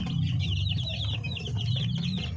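A lone gray Filipino cobra hen clucks in soft repeated bursts, close up, over a low background murmur of farmyard noise, with no one talking.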